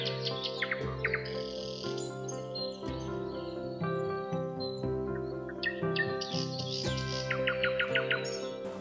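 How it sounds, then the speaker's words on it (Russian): Birds sing in winter along a wooded path near Gelendzhik, with bright chirps and trills scattered over a dense, layered tonal background at moderate loudness. "слушайте пение птиц. Да, они здесь есть даже и зимой."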